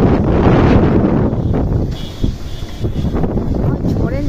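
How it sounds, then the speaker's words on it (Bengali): Strong gusty wind before a rainstorm roars and buffets the microphone in a loud continuous rush, rising and falling in intensity. "বিশাল হাওয়া হচ্ছে, বিশাল।"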